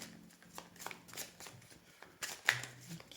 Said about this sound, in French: je vais aller tirer 5 cartes